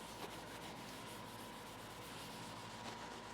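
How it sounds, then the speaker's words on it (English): Raw plastic car bumper scuffed for paint prep, a steady close rasping rub that continues without pause. "And then you can just get to scuffing."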